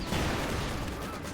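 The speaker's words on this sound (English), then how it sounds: "Maxim firing away, getting some damage here on the Volksgrenadiers" Maxim machine gun firing in Company of Heroes 2, with dense, continuous battle gunfire forming a loud, rumbling, crackling wash that fills the whole moment without speech.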